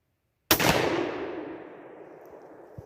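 A single loud shotgun blast being fired while readying shotguns for turkey season, with a sharp onset and a long decaying tail, alone with no talk.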